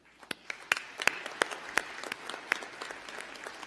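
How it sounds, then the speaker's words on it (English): Sparse, distinct hand claps from a union convention audience, individual sharp claps picking up into scattered, fairly quiet applause. "I think that we should give all of you a round of applause"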